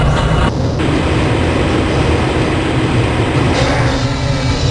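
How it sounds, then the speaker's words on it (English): A Black Mesa transit train rides along its track in the video game Half-Life Blue Shift, a loud, steady rumbling roar that stays close and continuous without pause. "This train is inbound from the Area 8 topside dormitories to the Central Transit Hub in Area 9"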